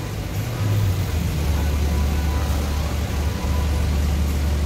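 A Lembah Tidar bus engine idles at a bus terminal with a steady, loud low rumble that holds throughout, without speech.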